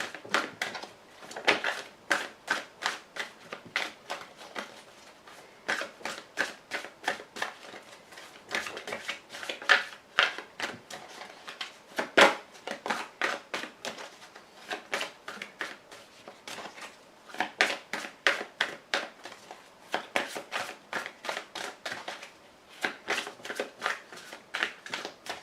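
A deck of cards is cut and handled at close range, with repeated crisp riffling flicks and soft slaps coming in irregular bursts and short pauses, fairly quiet throughout with no talking.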